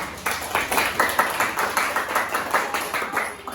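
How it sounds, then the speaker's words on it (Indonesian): A class of students in an Indonesian microteaching session claps hands together, a steady, fairly loud patter of many hands lasting a few seconds, with no voices over it. "Oke, boleh tepuk tangan dulu."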